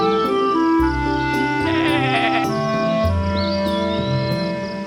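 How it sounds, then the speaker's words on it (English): A cartoon sheep bleats in a few wavering, voice-like cries over a bright musical backing. The cries are clear and up front, with no speech. "Watch out, Lolly, shouts Mr. Woolly the sheep."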